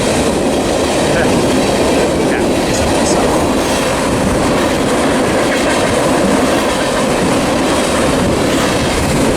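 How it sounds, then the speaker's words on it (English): Slow ethanol freight train rolls past close by, with a loud, steady rumble of railcars and rhythmic wheel clatter throughout, plus faint squeals over the roar. "Slow ethanol trains, yeah."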